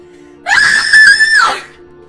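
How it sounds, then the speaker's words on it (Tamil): A woman gives a single sustained, high-pitched scream at night in an upscale Delhi residential colony, loud and close for about a second before it trails off. "இரவின் அமைதியை குலைக்கும் ஒரு குளிர்ச்சியான அலறல் சத்தம் கேட்டது"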